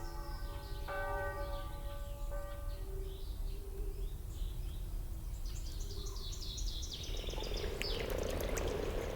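A chorus of frogs croaks steadily near a deep mountain lake, with repeated pulsing calls layered over constant ambient noise, growing busier and denser toward the end, with no talking.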